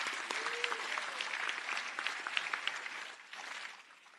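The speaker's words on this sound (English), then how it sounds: "Come on, one more round of applause." A round of applause at a county committee meeting, made of scattered individual claps over a softer clapping bed, fairly distant and thinning out toward the end.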